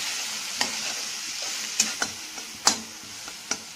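Grated raw mango being stirred into melting jaggery in a pan, with a soft steady sizzle under a few sharp scraping clicks of a spoon against the pan, close and fairly quiet, no talking.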